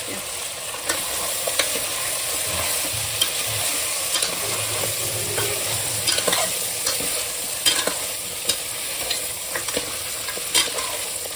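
Dry goat mutton curry being stirred as it fries in a pan, a steady sizzle broken by repeated scraping strokes of the spoon, close and fairly loud with no talking.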